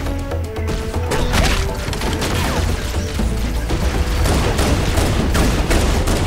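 Magnum pistol fire in Halo: Combat Evolved, dense and loud, merged with a steady wash of in-game explosions, crashes and background music for several seconds without a break.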